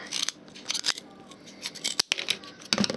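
Scissors cutting card for a boat-in-a-jar craft: a series of close, crisp snipping strokes in quick irregular bursts, with a short pause midway.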